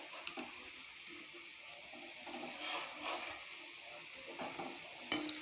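Shredded potato chips frying in hot oil, a faint continuous bubbling sizzle with occasional soft clatter of a utensil in the pan, ending in a sharper clink.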